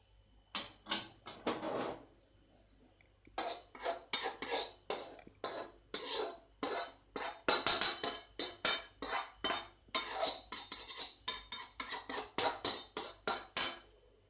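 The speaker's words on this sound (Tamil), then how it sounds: "சிம்மிலே வச்சு நீங்கள் அந்த மாவை வறுத்துக்கலாம்" Millet flour being stirred and dry-roasted in a pan over a low flame, heard as rhythmic scraping strokes from a spatula against the pan. A short pause comes after the first burst, then steady strokes continue with no talk.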